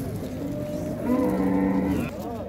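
A cow at a busy livestock market gives one long, loud, close moo that swells and falls over a couple of seconds above the steady crowd hubbub.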